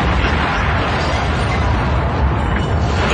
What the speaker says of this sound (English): Can you take me out with an exploding bomb hit?